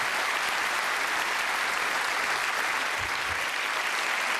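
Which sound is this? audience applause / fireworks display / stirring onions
audience applause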